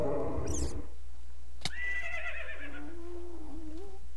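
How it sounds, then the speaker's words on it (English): A horse in the Minecraft video game whinnies loudly and alone at the start, followed by a sharp click and a series of fainter, wavering synthetic tones trailing off over a steady low hum. "That stupid horse."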